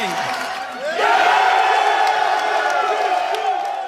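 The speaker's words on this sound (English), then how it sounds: "The cheering there from the Boise State locker room at the team's watch party here in town" A crowd at the Boise State locker room watch party for the NFL draft, after Ashton Jeanty is picked by the Raiders, erupts into loud, close cheering and whoops that rise suddenly about a second in and hold steady.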